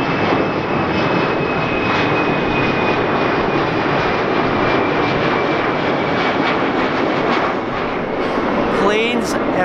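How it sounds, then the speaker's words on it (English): Airplanes pass overhead with a loud, steady engine roar that fills the scene and eases slightly near the end, as a nearby voice speaks over it. "Planes everywhere."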